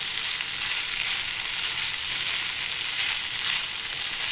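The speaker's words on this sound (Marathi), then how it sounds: "आपण शेवटी आता लिंबाचा रस टाकूया आणि छान परतून घेऊया" Corn rice with lemon juice is stir-fried in a pan, giving a loud, steady, close hissing sizzle with faint stirring and no voices.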